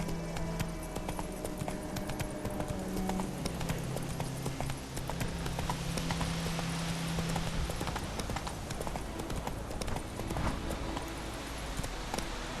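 Horse hooves galloping in The Witcher 3 game, a fast continuous clip-clop rhythm that stays close and steady throughout with a faint ambient backdrop.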